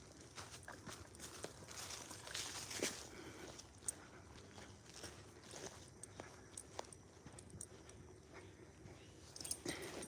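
A dog moves about on a farm, with soft scattered footfalls and light clicks, faint and somewhat distant, plus a few brief whimpers among low background noise.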